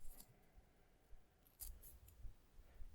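Faint snips from a tool trimming sharp edges off stained glass, a few brief crisp cuts spaced over a quiet, close background.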